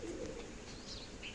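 A black pigeon coos softly at a nest over an egg, with faint chirps and steady background noise through the short stretch, and no talking.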